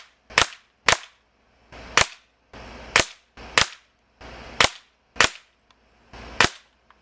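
A regulated Beeman Raider PCP air rifle fires outdoors: seven sharp, loud, close cracks spaced roughly a second apart, each decaying quickly, with no talking.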